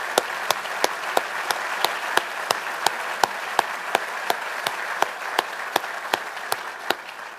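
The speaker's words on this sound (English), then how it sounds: "Another huge round of applause." Audience applause for honored faculty at an Army War College recognition ceremony: steady, dense clapping throughout, with sharp individual claps standing out in a regular rhythm, moderately loud and with no talking.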